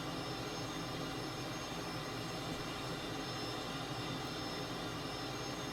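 Cessna T-37 jet trainer in a flight simulator game, its engine a steady, loud broadband roar that holds evenly throughout without any voices.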